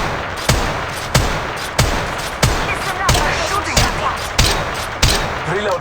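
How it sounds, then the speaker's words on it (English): Gunfire in the mobile battle royale game Apex Legends Mobile: loud, sharp shots crack out at a steady pace of about one every half second, over a constant bed of game noise. "They're shooting at me."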